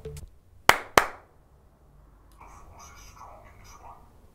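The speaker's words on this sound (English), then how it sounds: "Clap from there, let's see if you'll hear it." Two sharp hand claps in quick succession, close and loud, followed by soft murmured speech.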